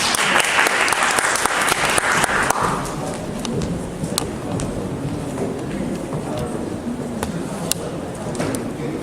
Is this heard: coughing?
no